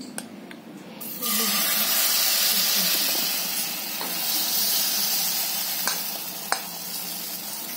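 Wheat flour uttapam batter hits hot oil on a nonstick griddle and bursts into a loud, sustained sizzle with hissing steam, close up after a quieter opening, with a couple of sharp utensil taps.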